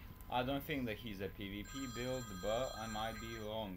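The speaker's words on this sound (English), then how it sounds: "Sorry guys, that was just my phone." A mobile phone rings repeatedly in a quick patterned tone, heard beneath someone speaking throughout.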